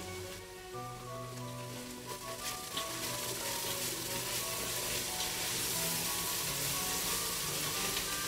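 Split peas sweat in fat in a pan over medium heat, giving a steady soft sizzle with crackling droplets that lasts throughout, building slightly denser toward the end, with no one talking over it.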